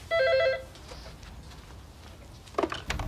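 An old telephone rings with a single short electronic double trill at the start, loud and close, followed by quiet room noise and small handling sounds.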